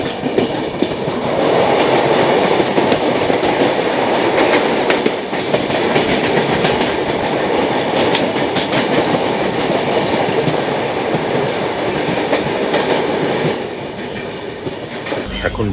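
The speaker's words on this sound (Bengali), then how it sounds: "এবার আসছে NGP হাওড়া বন্দে ভারত, তার সঙ্গে দেখা হয়ে গেল।" A New Jalpaiguri–Howrah Vande Bharat Express passes close by on the railway, a loud, steady rumble of wheels and carriages rolling past for the full stretch before easing slightly at the end.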